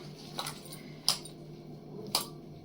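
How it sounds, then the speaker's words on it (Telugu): A knife chopping curry leaves into small pieces on a board, three crisp, quiet taps about a second apart against a soft background hum. "ఇలా కరివేపాకు కట్ చేసుకోవాలండి"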